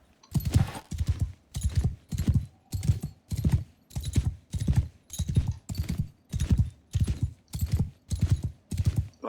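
Horse hooves clip-clop in the Mount & Blade II Bannerlord game, a steady regular gait of about a dozen even, loud strikes close by with no talk over them.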